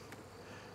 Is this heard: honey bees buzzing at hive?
yes